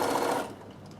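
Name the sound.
sewing machine stitching a table runner with needle stop down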